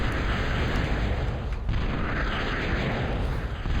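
Missile launcher towers fire in a real-time strategy video game on a lava map, a steady roar of rumbling blasts and explosions layered continuously, loud and dense with no pauses.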